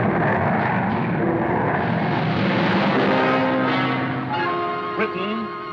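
Jet aircraft flying overhead at a 1951 air display, a loud continuous roar and whine that swells and shifts in pitch as it passes, with steady tones rising through the middle and a sharper sweep near the end.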